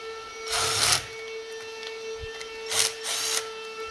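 A handheld impact gun loosening bolts during an S13 car restoration fires two short, loud, rattling bursts about two seconds apart, close by, over a faint steady background hum.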